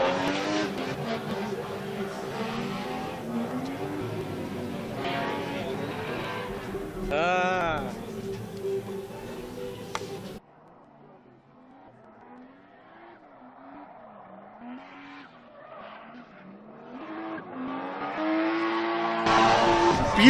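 A Toyota Cressida drift car at a Drift Colorado competition event, its engine roaring and tires squealing through a skid, loud at first, then dropping away before rising again near the end, with a commentator talking over it.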